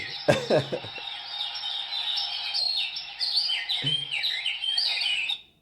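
Busy birdsong with bright, rapidly repeating chirps and trills, fairly close and continuous, with a few low knocks near the start.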